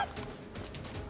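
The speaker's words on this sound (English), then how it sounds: "We got chicken." Poultry clucking and gobbling in the Greek-myth video game Immortals Fenyx Rising, a short burst of fowl calls over a steady, noisy game backdrop with no talk.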